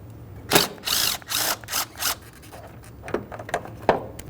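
A ratchet or wrench works the 10mm bolt on the coolant reservoir of a 2012-2018 Nissan Altima 2.5L, with several close bursts of rapid clicking followed by quieter, scattered turns.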